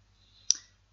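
A single computer mouse click while working in a spreadsheet, a short crisp tick heard alone and close against near silence.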